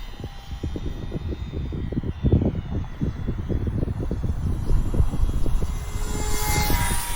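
A ParkZone Ultra Micro Spitfire Mk IX radio-controlled plane flies past with a steady, buzzing electric motor and propeller drone that swells slightly as it nears, heard alone outdoors.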